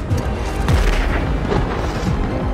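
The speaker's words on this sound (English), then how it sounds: "Oh, that's a bomb." A loud, rumbling bomb explosion from the Fortnite end-of-season event closing Chapter 2, a continuous booming roar with crackling blasts that fills the whole moment and carries no speech.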